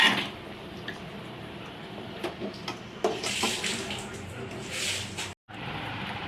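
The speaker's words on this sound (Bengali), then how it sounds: "এগুলোকে এবার ছেঁকে তুলে নিচ্ছি, জল ঝরিয়ে নিচ্ছি ভালো করে" Water draining from boiled sweet corn poured into a strainer, a steady splashing trickle with a few louder gushes and a short break near the end.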